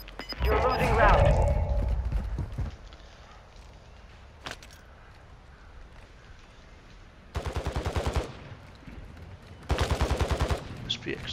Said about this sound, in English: we got shooting right there